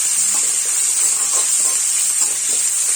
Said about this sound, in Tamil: அதையும் இது கூட சேர்த்து நல்லா வதக்கிக்கலாம்.